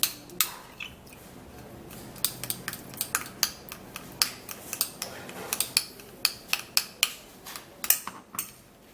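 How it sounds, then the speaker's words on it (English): A teaspoon mashes a shea butter mixture in a small container, making a series of sharp, irregular clicks and scrapes that come faster and more regularly toward the end, close and fairly quiet. "we're going to try to mash it together at first so that we can get the shea butter dissolved into the mixture"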